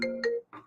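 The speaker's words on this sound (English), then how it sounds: "My phone started ringing right then, by the way. I'm sure you could probably hear that." A mobile phone ringtone goes off in two short tonal bursts, fairly close and clear, followed by a brief softer sound; no speech is heard.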